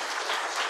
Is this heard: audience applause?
yes